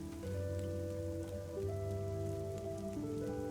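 Steady rain falls in the video game Fall of Porcupine, a soft continuous hiss of drops layered with low sustained musical tones, with no talking over it.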